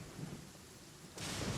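Steady rain with rumbling thunder in the video game Genshin Impact; a constant wash of rainfall with low rolling thunder swells, then a sudden louder, brighter burst of downpour, no voices.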